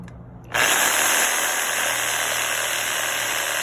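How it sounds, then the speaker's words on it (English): A Warrior reciprocating saw powered by an EcoFlow unit starts abruptly and then runs steadily at a loud, even buzz while cutting through a tree branch. It stays close and continuous with no talking. "I'm going to go ahead and cut this branch"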